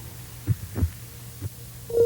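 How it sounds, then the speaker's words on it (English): A lamb's heartbeat throbs in low, muffled double beats spaced roughly every half second or so, close and isolated, over a faint steady hum. "The sound is heartbeat"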